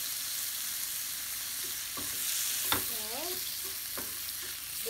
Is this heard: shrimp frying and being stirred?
yes